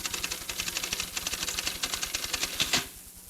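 Rapid typewriter typing at roughly 80 words per minute, a dense steady run of crisp mechanical key strikes with a louder clack near the end, then quiet.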